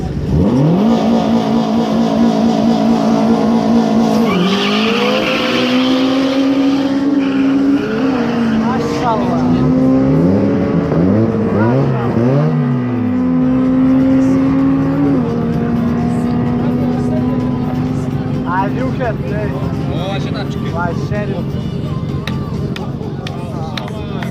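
Drag racing cars launch down the strip at a championship in Ingushetia, their engines roaring and revving in rising, sweeping pitches with some tire noise. A commentator talks over the continuous, loud engine sound.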